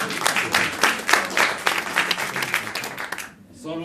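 Audience applause at a live improv comedy show, a dense wash of clapping filling most of the span, then thinning out before a voice starts speaking near the end.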